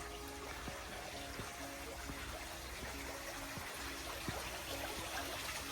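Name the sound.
water running out of a fountain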